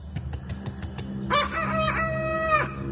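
A rooster crows loudly and close by from up in a tree, one long drawn-out call, after a few sharp clucks.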